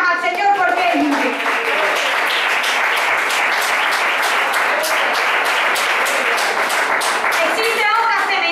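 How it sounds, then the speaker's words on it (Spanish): Church congregation claps for the Lord in sustained, rhythmic applause that rises quickly and holds steady, with a voice briefly audible at the start. "Bríndele las palmas al Señor porque Él vive."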